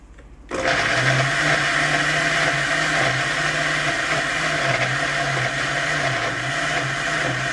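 A small kitchen blender making chili oil switches on after a moment of quiet and whirs steadily at a high pitch, its motor note wavering slightly as it runs.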